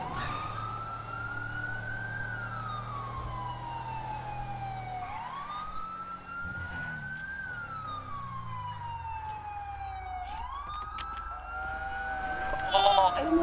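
Emergency vehicle sirens echoing between city buildings in the GTA V game with the FiveM mod, a wailing tone sweeping up and down in repeated cycles over a low engine rumble, moderately distant.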